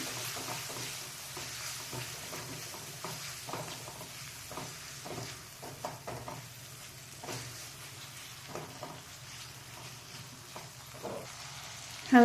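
Chopped garlic and ginger paste fry in a pan for aloo palak, with a steady close sizzle and repeated soft scraping strokes of stirring throughout, no voices.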